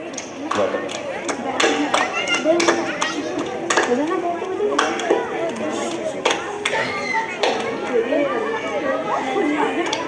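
An audience at a school annual function claps for a children's drama, a steady patter of hand claps with sharp louder bursts mixed with crowd chatter, fairly close and continuous throughout.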